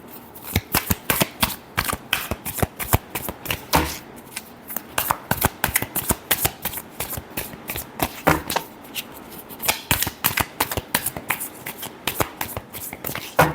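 Tarot cards are shuffled by hand in quick, crisp riffling bursts that repeat steadily and close to the listener, with no voice over them.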